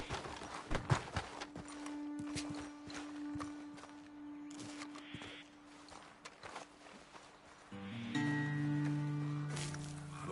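Horses clip-clop and shuffle on their hooves in Red Dead Redemption 2, with irregular steps and snorts up close, giving way to a steadier low rumble near the end.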